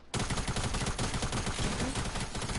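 Sustained, dense SMG gunfire in Fortnite, a loud continuous rattle of rapid shots filling the short moment with no gaps.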